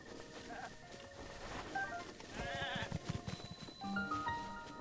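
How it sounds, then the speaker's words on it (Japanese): Goat bleating in Zelda: Breath of the Wild, a few short nasal bleats near the middle and end over soft game ambience and chiming music tones. "ヤギか。"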